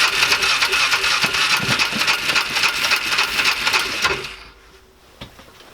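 A Ford Ranger engine cranks and tries to start, making a loud rapid churning whir that carries on steadily for about four seconds, then drops away to quiet with a faint knock.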